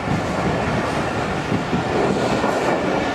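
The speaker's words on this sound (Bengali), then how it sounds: "এটা কি রাজশাহীর ট্রেন?" A train rolls past close by, a loud, continuous rumble of railway cars with rattling wheel clatter that holds steady from start to end.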